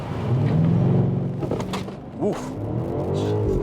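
A BMW X5 M60i V8 hybrid SUV in Sport Plus mode, held on brake torque for launch control, holds a loud, steady engine drone before it surges forward with rising engine pitch. A voice exclaims briefly partway through.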